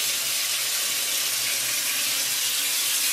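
Hot water poured out for measuring to cook noodles, a steady broadband rushing splash that stays even and close throughout with no talk over it.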